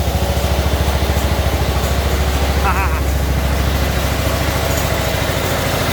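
A Simplicity lawn tractor engine running loud and close, a steady rapid idling thrum throughout, with a brief higher tone partway through.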